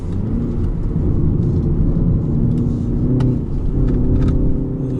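A 2019 BMW 330i (G20) sedan's engine rumbles loudly and steadily at close range, a deep throaty drone with no voices over it.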